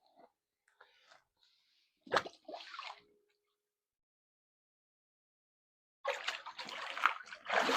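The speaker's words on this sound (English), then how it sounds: "with the mic, you'll catch all like the cool water sounds too" Water in a Nuvio cold plunge tub splashes and sloshes in a few short, close bursts separated by silence, then churns more continuously toward the end.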